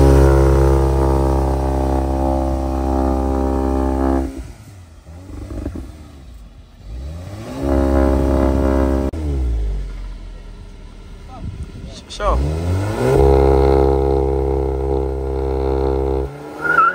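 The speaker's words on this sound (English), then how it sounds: "So this is how you do a launch control on a Golf 8 GTI." A Volkswagen Golf 8 GTI launches with launch control: loud, harmonic engine revs that drop out and rise again in several surges and upshifts, heard nearby and roaring over the whole stretch.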